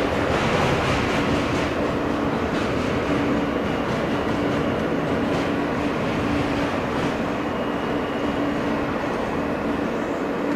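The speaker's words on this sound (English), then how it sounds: "This is a Manhattan-bound F train via the D local line." R160 subway train on the F line in New York, running via the West End and 4th Avenue local tracks, heard from on board as a steady loud rumble with faint rhythmic clatter of wheels over rail joints and no voices.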